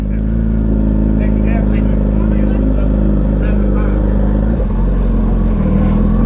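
Motorcycles on a memorial ride-out rumble loudly and steadily close by, a constant dense engine drone that shifts slightly as bikes pass.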